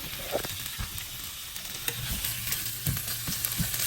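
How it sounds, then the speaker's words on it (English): Shrimp cut in half sizzle and fry in a hot pan at home, a steady hiss of frying with light stirring clatter and faint crackles throughout, no voices. "Now I'll put the shrimp."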